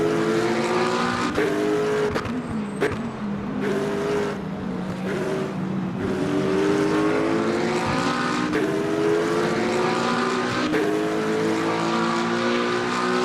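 A McLaren race car engine in the Le Mans Ultimate racing game screams loudly throughout, rising in pitch through each gear and dropping sharply at every upshift, repeating over several shifts.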